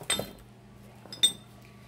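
A pretty engraved glass box handled during a basement clear-out gives two quiet clinks about a second apart, light glassy taps with stillness between.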